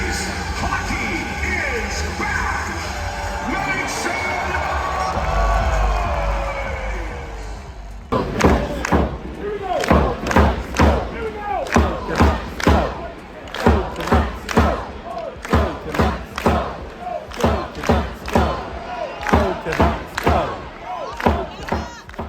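Hockey arena crowd roaring and cheering loudly, then breaking into rhythmic chanting with repeated thumping claps or stomps in a steady beat, large and echoing.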